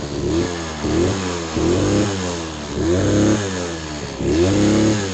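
A GP1 70 Racing engine, apparently started off a car battery, runs loud and close, rising and falling through repeated revs in a steady throttle-blip rhythm.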